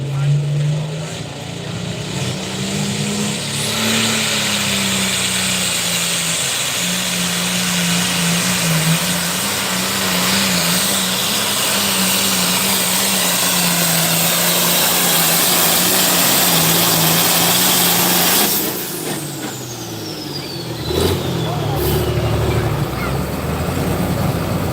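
Tractor engine roaring at an 11,500 lb Pro Farm class tractor pull, a loud sustained drone that holds steady for about twenty seconds before cutting off, with a commentator speaking over it.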